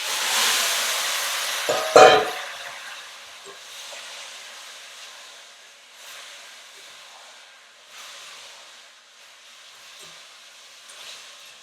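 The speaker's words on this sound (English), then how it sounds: "And that's the sound of a delicious Caribbean stew." Caribbean lamb stew sizzling and simmering in a pot, a broad steady hiss with a sharp clatter near the start, then fainter bubbling and soft crackles fading in and out, with no talk.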